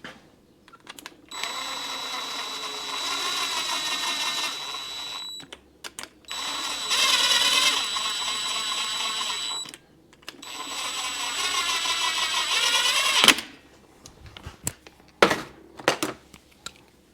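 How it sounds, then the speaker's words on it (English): A power tool or impact driver tightening the crankshaft nut on a Kawasaki F7 Bushwacker engine, three sustained whirring bursts of several seconds each, then scattered clanks and taps at close range, no voices. "then we'll tighten up the crankshaft nut."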